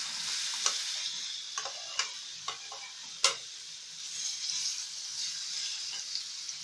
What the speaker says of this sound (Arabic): خلاص معلقة السمنة ساحت، هنزل بالتفاح اللي قطعته